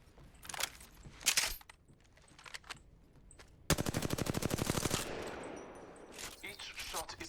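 Rapid automatic gunfire from the video game Apex Legends: a sustained burst of evenly spaced shots, loud and close, preceded by scattered clicks and shorter bursts, with a faint voice in the background.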